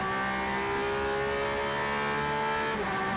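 Race car on a qualifying lap at the 2019 1000 Miles of Sebring, engine note holding a high, steady whine that bends down near the end as it slows for a corner, heard clearly with no speech.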